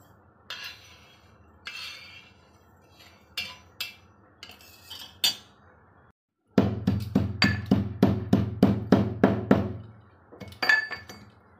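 Dry-fried fennel and cumin seeds being pounded: scattered clinks and knocks at first, then a fast, regular series of heavy thuds close by, followed by a few more taps.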